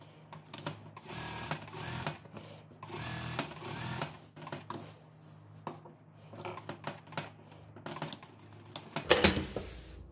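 A sewing machine stitches a denim dress, running in several rapid mechanical bursts separated by short pauses, with one loud clattering run near the end.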